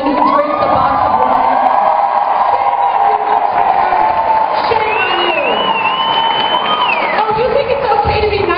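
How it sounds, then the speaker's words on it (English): A comedy-show audience cheers and whoops loudly and continuously. A speaking voice runs over the crowd noise, with a rising shout near the end. "Don't cheer for her."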